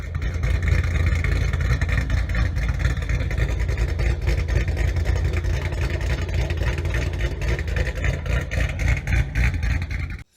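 A pickup truck with a swapped-in GM LS V8 engine runs steadily and loudly for the whole stretch, a continuous throbbing rumble with no talk over it.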